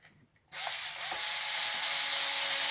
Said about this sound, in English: flip them over and put in our last 2 screws